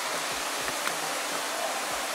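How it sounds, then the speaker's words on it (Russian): Small modest waterfall on a mountain walk at Rosa Khutor resort, a steady broadband rushing roar, close and constant throughout, with faint footsteps or thumps beneath; no talking. "Но это обычный скромненький водопадик."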